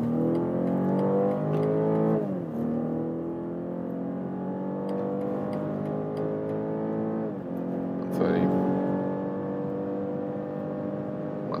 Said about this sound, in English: Sport mode with the X3, and let's also accelerate from 50 kilometers an hour with the power of both drivetrains.